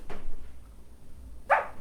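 A single sharp dog bark rings out close by near the end, after a quiet stretch with faint low room noise.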